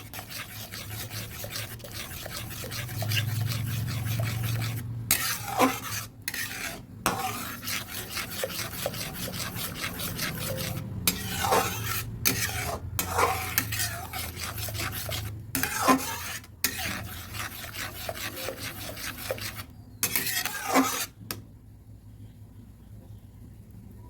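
Tamarind is stirred into homemade tomato sauce in a pan, giving repeated scraping and rubbing strokes in uneven bursts over a soft simmering sizzle, close and fairly quiet.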